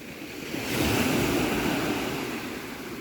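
Sea surf rolls and breaks continuously along the Ligurian coast, a broad loud wash that swells and holds steady, with light rain starting and some wind noise on the microphone.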